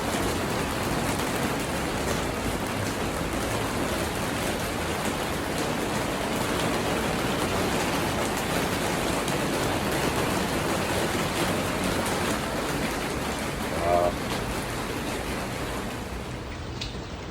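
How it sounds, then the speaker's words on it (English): Steady, dense rain patters on a greenhouse roof, a constant hiss with no breaks, heard from inside. "Started raining while I came in the greenhouse."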